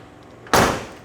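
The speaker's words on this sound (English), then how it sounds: "Door shut's nice" A door on a 1968 Mercury Cougar XR7 shuts with a single solid thump, a sharp close slam that decays quickly, alone after a quiet moment.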